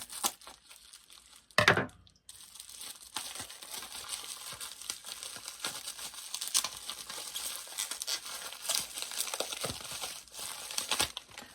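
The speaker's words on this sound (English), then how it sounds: "see if I can get out of this packaging" Plastic packaging around LEGO-style bricks crinkles and tears close by, a sharp rip early on followed by steady rustling and crumpling with no speech.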